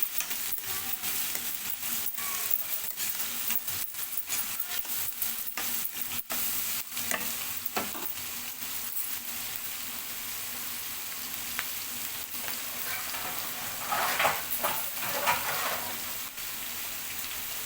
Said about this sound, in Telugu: ఒకసారి కలుపుకొని మూత పెట్టి ఉల్లిగడ్డ గోల్డెన్ కలర్ వచ్చే వరకు అయితే మగ్గనివ్వాలి